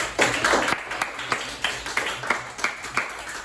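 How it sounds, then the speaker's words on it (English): Students in a classroom clap for themselves and their group in a short, uneven round of claps, close and moderately loud, with rhythmic bursts rather than sustained applause. "clap your hands for yourself and your group"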